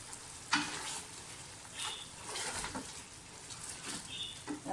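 Namkeen gosht, pieces of meat frying in a pot while being stirred, gives a steady soft sizzle broken by a few scraping stirs, heard fairly close with no talking.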